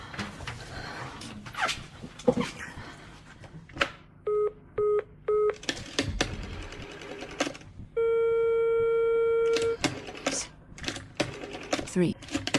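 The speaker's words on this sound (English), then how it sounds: "Dial 0 and you'll get the exchange." A telephone is dialed in a German crime radio play, with clear repeated tone beeps and a long steady dial tone between spoken lines and other staged sound effects.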